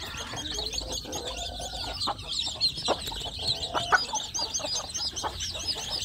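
Many small free-range village chicks in a box cheep constantly in high, wavering peeps, close by, with occasional soft thumps and rustling underneath.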